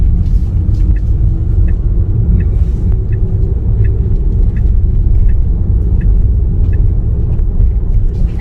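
Steady low road rumble and drivetrain hum inside a Tesla Model Y electric car while driving, continuous and loud throughout with faint soft ticks above, no talking.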